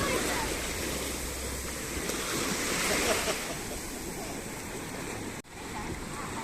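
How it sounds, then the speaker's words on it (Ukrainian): Rough Atlantic waves surge and crash along the shore at Puerto de Santiago, Tenerife, in a continuous loud roar. The sound swells midway, and wind buffets the microphone near the end. "Дивіться, яка велика хвиля ось іде."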